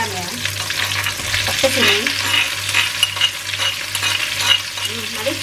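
Ground shallots and garlic fry in a hot pan with a steady, loud sizzle and occasional stirring scrapes, while a low steady hum runs underneath; a brief voice speaks once.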